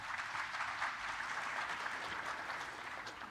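An audience at a Finance in Common 2022 conference session applauds steadily, a broad even wash of clapping that fades slightly at the end.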